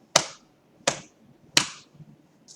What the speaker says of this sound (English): Clapping the rhythm of the first line.